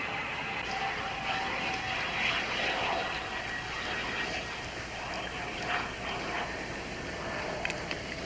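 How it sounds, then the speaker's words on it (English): A droning airplane engine hums steadily at a distance, its tone wavering slightly, with faint indistinct sounds scattered over the drone. "It's a weird sound. Sort of like an airplane."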